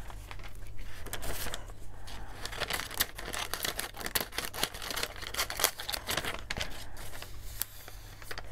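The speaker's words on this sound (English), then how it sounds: "trim this one down." Paper being trimmed for a collage, with close, repeated crisp snips and rustling handling over a steady low hum, no voices present.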